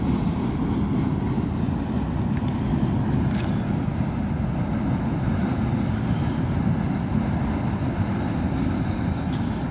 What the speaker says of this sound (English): It's a pretty big train though.